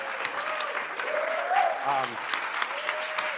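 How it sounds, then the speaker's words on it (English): Audience at an institute launch event applauding a panel of farmers, steady moderate clapping with voices speaking over it throughout. "applause for the farmers, right?"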